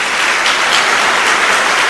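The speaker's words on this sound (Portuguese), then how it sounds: "Dê uma salva de palmas a Jesus." Church congregation claps in praise to Jesus during a Portuguese-language service, a loud, dense, continuous roar of many hands with no voices over it.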